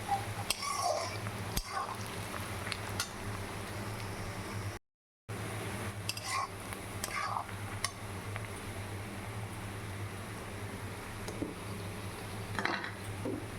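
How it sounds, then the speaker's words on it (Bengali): Onions fry in a wok for a mutton curry while a utensil scrapes and clinks against the pan, with a steady sizzling hiss under the repeated stirring. "অন্য কড়াইয়ে দেখো আমি যে পেঁয়াজগুলো ভাজা করছি সেটা একদম লাল লাল হয়ে গেছে।"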